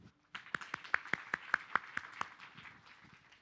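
A small audience at a public forum on criminal justice transparency claps in a quick burst of distinct, fairly close hand claps that thin out and fade after a few seconds.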